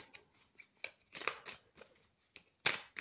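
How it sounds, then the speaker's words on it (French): Card drawn from an Everyday Witch Tarot deck: soft, close papery flicks and short crisp riffling snaps in an irregular rhythm, quiet with no talk. "je vais juste prendre une petite carte du Everyday Witch Tarot"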